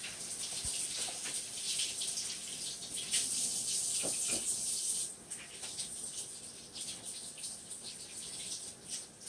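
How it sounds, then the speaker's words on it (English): Running tap water pours steadily while hands are washed at a kitchen sink during cooking, a faint hissing stream with occasional splashes and small clinks, moderately close, no voices. "I gotta wash my hands"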